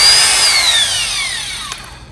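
A Bulldog rotary hammer runs in drill-only mode, giving a loud, close, high motor whine that drops steadily in pitch as it winds down over about two seconds.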